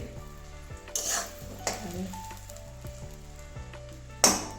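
Potatoes frying in a pan during a Bengali egg and cauliflower fritter curry, a steady close sizzle with scattered clinks of a utensil against the pan and a sharper scrape near the end.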